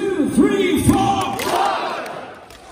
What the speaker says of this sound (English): then we clap our hands and scream blood, okay?